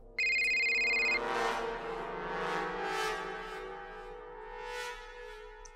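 A telephone rings with a bright electronic tone for about a second, then a sustained melodic ringtone-like drone continues, loud and close, in a Marathi television drama scene.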